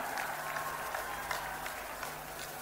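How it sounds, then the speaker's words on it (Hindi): At a political gathering in Rajasthan, a crowd claps to welcome the Home Minister, producing sustained, moderately loud applause with scattered sharper claps. "मैं ताली बजाकर सबसे अभिवादन करने के लिए आग्रह करता हूं।"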